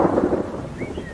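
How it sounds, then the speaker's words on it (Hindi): Heavy rain and thunder in an animated Hindi jungle cartoon: a loud, continuous wash of rain with a low thundery rumble, steady throughout the short moment, with no talking over it. "अरे बाप रे, ये बारिश तो बहुत तेज है।"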